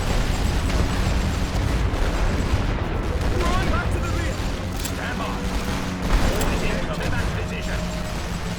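Siege artillery and gunfire in a Great War Western Front battle, a loud, sustained barrage of overlapping blasts and shots with a louder burst near the end.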